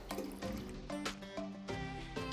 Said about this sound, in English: I'm also going to add in 2 cups of water.